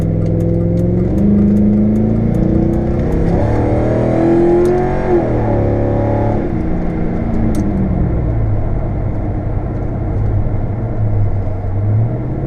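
Car with an automatic transmission and a B&M Quicksilver ratchet shifter accelerating, loud engine rising in pitch through gear changes, then settling to a lower steady drone as it shifts into overdrive.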